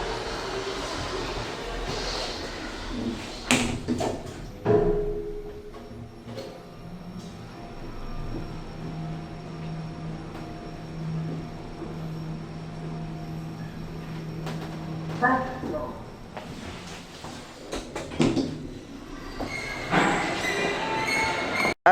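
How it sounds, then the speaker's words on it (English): At Wembley Park, a tram-like vehicle rolls past with a low rumble and squealing wheels that swell and fade over about twenty seconds, amid quieter background noise. "Oh look, it's the fake tram."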